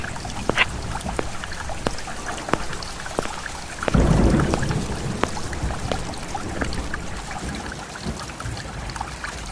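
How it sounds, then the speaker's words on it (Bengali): Rain falls over a river, a constant wash of patter with distinct drips and splashes ticking through it, plus a brief louder rush of water midway before settling back to an even, moderate downpour. "বৃষ্টি নামে, নদীর পানি ধীরে শান্ত হয়"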